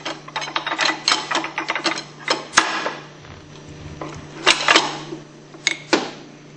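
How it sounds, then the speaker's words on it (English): Shaft assembly pressed out of a Hypro 9303C centrifugal pump motor, a run of sharp metallic clicks and ratcheting clanks close up, over a low steady hum. "You can press directly onto the shaft to press out the whole assembly."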